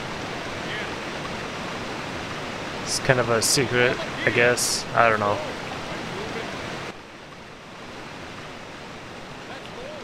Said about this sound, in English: There's also this waterfall over here that you can cross.